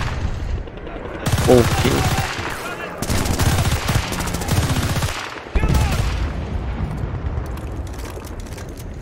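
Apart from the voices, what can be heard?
gunfire from video game Battlefield Bad Company 2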